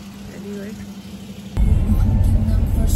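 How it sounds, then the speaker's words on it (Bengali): A car being driven out of a resort, a quiet engine hum that jumps to a louder, rumbling drive partway through, with voices talking over it. "এই যে গাড়ি বের করছে"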